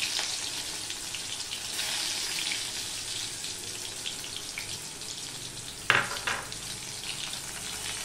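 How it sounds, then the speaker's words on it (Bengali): Chopped onion fries in hot oil for a pointed gourd dish, giving a loud, bright, hissing sizzle that swells and fades, with one sudden sharp clatter near the end and no talking. "পেঁয়াজটা আমি লাল লাল করে ভেজে নেব।"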